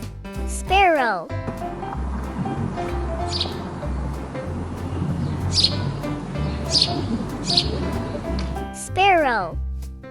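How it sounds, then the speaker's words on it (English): A sparrow gives several quick, high chirps in short bursts, spaced apart over a steady backing music track. "Sparrow."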